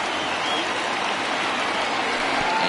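A baseball stadium crowd of over 29,000 at a Dodgers at Royals game rises to its feet, a dense, loud, steady roar of cheering and clapping that fills the whole moment.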